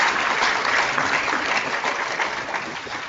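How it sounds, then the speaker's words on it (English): Sustained audience applause at a university convocation honoring medal winners, a dense, steady wash of many hands clapping at moderate distance throughout without any voices. "I think they deserve your applause."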